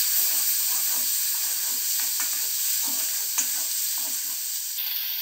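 Ground masala paste frying in a pan for a Punjabi chhole masala: a constant bright hissing sizzle with soft, irregular stirring scrapes, close and steady throughout without speech.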